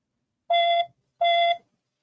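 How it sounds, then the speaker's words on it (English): A phone notification alert that resembles a fire alarm: two identical loud electronic beeps, each about a third of a second long, separated by a short gap and followed by silence. "Oh, someone's fire alarm's going off. Nah, it's just my notifications."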